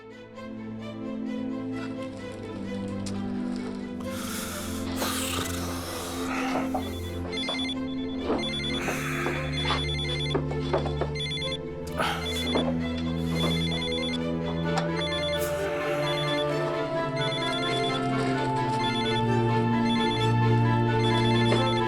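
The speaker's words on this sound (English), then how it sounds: "Come on, Gray, pick up the phone." A phone rings with a melodic electronic ringtone that repeats its pattern for over twenty seconds, loud and close, with no one speaking over it.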